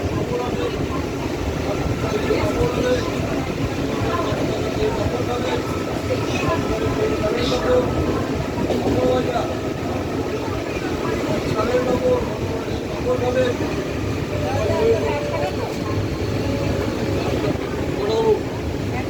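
A train rolls into a station with a continuous low rumble and rattle of the carriages, steady and fairly loud throughout, while voices murmur in the background.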